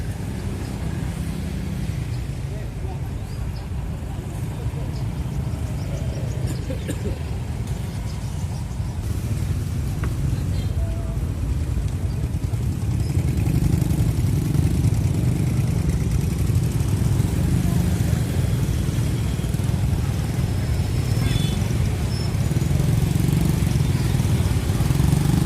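Heavy late-afternoon traffic jam in Lambaro, Aceh Besar: a steady, dense drone of idling and crawling car and motorcycle engines grows slightly louder midway and never lets up.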